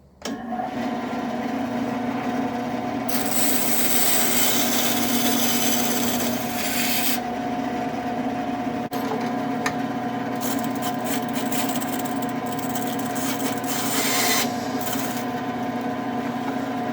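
A saw cuts through stacked wooden pieces for a nativity manger with a continuous rasping, buzzing drone, several louder bursts of cutting rising over a steady machine hum, close and without talk.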